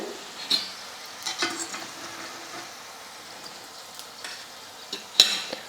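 Potato snacks fry in hot oil, a soft, steady sizzle with a few stirring scrapes and clinks now and then.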